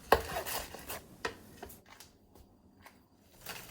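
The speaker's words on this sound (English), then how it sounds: "now slice your Napa cabbage into strips" Knife slicing Napa cabbage into strips for pad Thai, a run of close, crisp chopping taps on a board, irregular at first and thinning out toward the end.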